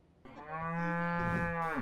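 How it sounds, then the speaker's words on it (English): A cow on a Vermont farm gives a single long, loud, close moo that starts abruptly and holds a steady low tone before trailing off. "Where else can you get this close to a cow?"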